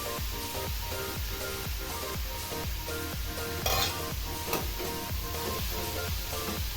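Radish sabzi with chopped coriander stir-fried in a pan, a steady close sizzle broken by rhythmic scraping strokes of a spoon, repeating roughly every half second, with no talking.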